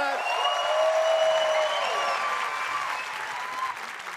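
A studio audience applauds a band with sustained, dense clapping and some cheering, loud at first and slowly easing off, with a voice calling out briefly over it.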